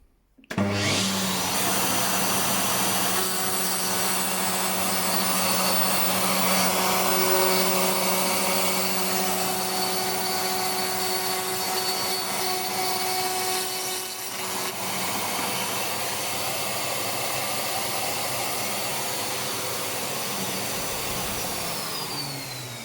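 A Makita RP2300 router mounted under a table in a Makita 2704 saw, cutting a 5 mm groove: a loud, steady high-pitched motor whine starts abruptly and runs continuously with slight dips, close and alone.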